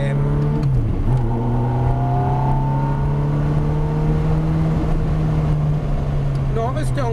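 A Ferrari F430 on a track at Trappes holds a steady loud engine drone in a high gear, with a brief dip and recovery as it accelerates through a chicane, the instructor's voice coming in over the engine.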